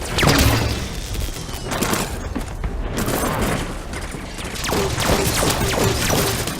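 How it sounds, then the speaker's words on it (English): Rapid bursts of weapon fire and crashing impacts in the shooter game Halo 5 fill the scene, loud and chaotic with overlapping shots and sharp bangs throughout. "We're shooting at the soldiers."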